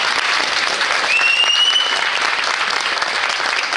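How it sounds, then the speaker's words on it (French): Loud, sustained applause from a crowd at a regional dance competition, steady clapping throughout with a brief high whistle-like tone partway through. "vous pouvez vraiment leur faire un tonnerre d'applaudissements s'il vous plaît"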